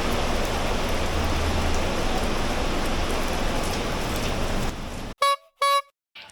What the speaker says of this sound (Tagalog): Sana humina na yung ulan.